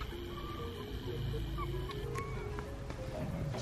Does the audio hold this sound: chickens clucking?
yes